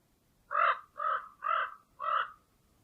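A crow caws four times in a steady, evenly spaced series, clear and fairly close against a quiet background.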